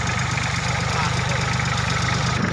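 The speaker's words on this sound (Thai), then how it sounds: "รถไถขึ้นมาแล้วครับ" A tractor engine chugs steadily at idle in rain, a close, continuous low rumble with no pauses.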